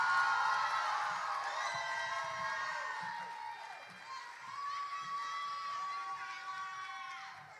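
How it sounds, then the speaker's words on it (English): A campus crowd at a Tap Day ceremony cheers and whoops, with high shouts and excited voices over scattered clapping, moderately distant and fairly quiet. "Let's give another round of applause for all of our 2024 LSV TAP class."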